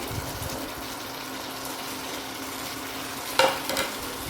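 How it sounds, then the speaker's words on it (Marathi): Ivy gourd (tondli) dropped into curd in a pan and stirred, a steady wet sizzling hiss with a brief louder clatter near the end, close up and without talk. "आता ह्याच्यामध्ये ही तोंडी ॲड करते"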